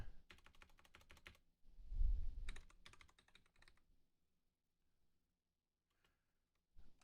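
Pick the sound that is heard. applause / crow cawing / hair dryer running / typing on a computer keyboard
typing on a computer keyboard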